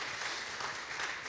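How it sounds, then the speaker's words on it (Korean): Church congregation clapping together during a Sunday worship service in a sanctuary, a steady, dense wash of hand claps sustained throughout at moderate level. "이 시간 박수하도록 하겠습니다."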